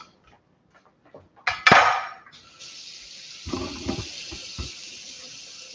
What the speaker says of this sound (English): what I'm going to do now is rinse these off real quick